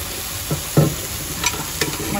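Peas going into a pan of cooked masala and being stirred, with a handful of distinct scraping and tapping strokes over a low sizzle, close and fairly loud.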